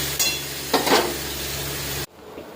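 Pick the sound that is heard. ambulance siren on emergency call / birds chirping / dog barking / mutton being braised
mutton being braised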